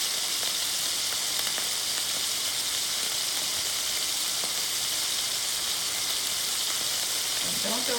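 Homemade turkey sausage patties sizzling in a pan, a bright, even hiss of spitting fat that holds steady throughout, close and fairly loud.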